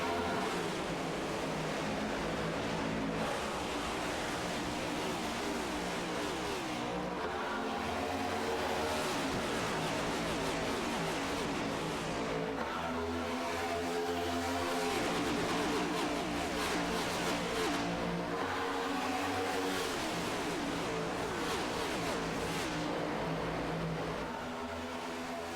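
Race cars at Atlanta in a racing video game, a HTL Cup Series stock car event: a dense, continuous loud roar of many engines that holds steady throughout with gentle swells, and no talking.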